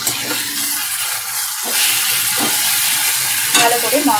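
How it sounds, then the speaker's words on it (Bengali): Spices and tomato are stirred and fried in a pan over a medium flame, giving a loud close-up sizzle with scraping stirring strokes and a few wet bubbling pops, with no speech. "মশলা আর টমেটো সব উপকরণ ভালো করে আমি 2-3 মিনিট নাড়াচাড়া করব"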